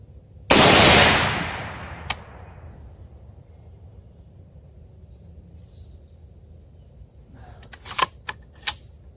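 Single sharp, very loud outdoor crack from a Palmetto State Armory 18-inch 6.5 Grendel rifle, with a long decaying echo, followed later by faint metallic clicks of the action.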